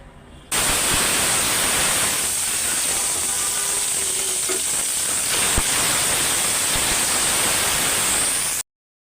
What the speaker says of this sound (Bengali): তেল গরম হয়ে গেছে ডিমগুলি আগে ভাইজা নিব